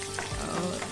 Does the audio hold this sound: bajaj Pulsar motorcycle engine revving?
no